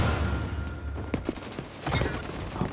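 Gunfire in the online shooter XDefiant: a dense, steady wash of rapid shots and mechanical clatter with scattered sharper cracks, continuous and fairly loud throughout.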